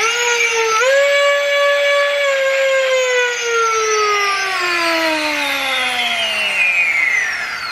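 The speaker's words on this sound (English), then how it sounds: "The rev down on this is kind of long" Flywheels in an UltraBrushless Rayven foam blaster kit spin down in one long continuous whine, loud and close, the pitch sliding slowly lower across several seconds with no talk over it.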